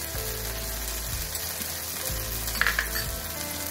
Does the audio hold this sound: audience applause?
no